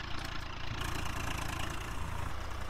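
A Swaraj 735 tractor engine in Farming Simulator 19 idles with a steady, dense rumble and a slight knocking pulse, continuous and close.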